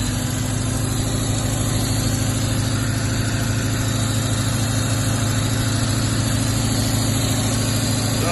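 A Sunbeam Venezia Superleggera engine, freshly rewired, idles steadily and continuously with a low, even drone and no voices.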